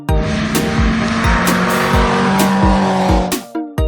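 A cartoon racing car roars past with loud, sharp tire squeals and skids over a driving rhythmic beat, ending in a final screech.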